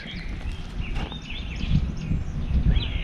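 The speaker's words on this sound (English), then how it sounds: "Listen to the birds." Birds chirp and trill outdoors near a porch on a clear, lightly windy day, with several bright calls scattered across the clip over a steady low rumble and some soft shuffling.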